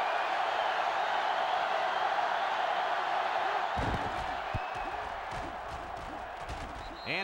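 Stadium crowd noise from the college football game NCAA Football 2005 during Hawaii versus Notre Dame: a steady, broad roar fills the air, then thins as other sounds break in near the end.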